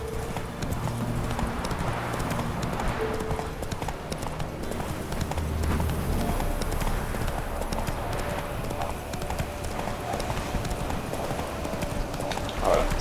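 Rhythmic hoofbeats of a galloping horse in The Witcher 3: Wild Hunt, on Skellige, clop steadily over a low background hum, with no talking.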